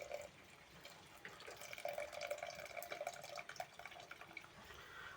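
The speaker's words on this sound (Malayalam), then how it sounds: "ഇനി നമുക്ക് പുളി വെള്ളം ഒഴിച്ച് കൊടുക്കുക" Tamarind water is poured into a cooking pan for a fish curry, making a steady splashing, trickling stream that runs close and fairly quiet for several seconds, with no voices.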